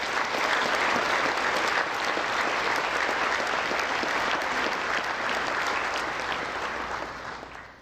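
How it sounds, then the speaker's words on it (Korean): Warm, sustained applause from a large audience at a national prayer breakfast gathering, steady and dense for several seconds before tapering off at the end. "오늘 참석한 이분들께 뜨거운 박수 부탁드리겠습니다"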